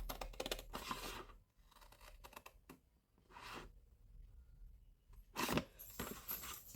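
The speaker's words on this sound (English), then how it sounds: "So we're going to cut up this score line here." Scissors cut through card along a score line while making an advent calendar, giving bursts of crisp snipping and rustling with short pauses between cuts, close and fairly quiet.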